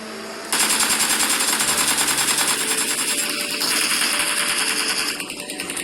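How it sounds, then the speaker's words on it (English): An AKM rifle fires sustained automatic bursts in PUBG Mobile, a loud, rapid, evenly spaced stream of shots that runs almost unbroken for several seconds with a brief dip near the end. "one single enemy killed the entire squad using just one magazine from an AKM"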